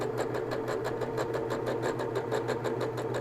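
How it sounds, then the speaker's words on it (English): A sewing machine stitches a fabric popcorn bag, running with a steady, rapid mechanical whir and an even stitching pulse throughout, close and continuous with no talk. "So I'm going to stitch a little bit."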